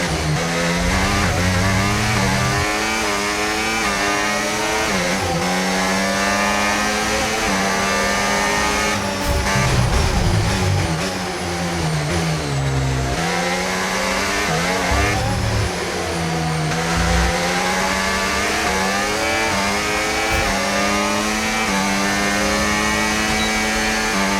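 An F1 race car engine screams through the final lap of a race in the F1 25 video game, a loud continuous high-revving whine that rises and drops with each gear change and corner.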